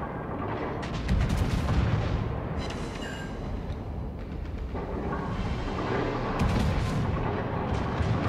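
Heavy battleship main-gun salvos in the World of Warships naval game, the Wyoming firing deep booming shots in several bursts with rumbling explosions, loud and close.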